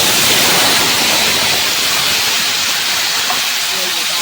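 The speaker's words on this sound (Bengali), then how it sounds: "গাজর আমি দিয়ে করে মেশামেশি করে নিচ্ছি" Carrots drop into hot oil tempered with nigella seeds, dried red chilli and a little turmeric, giving a loud, continuous, close sizzle that barely changes.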